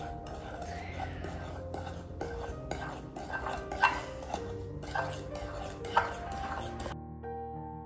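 Shaving foam is mixed in a bowl to make homemade snow, with soft scraping stirs and a few bright clinks of a utensil against the bowl, and a faint voice in the background.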